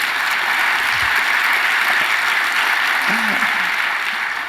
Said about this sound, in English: A little round of applause for this guy.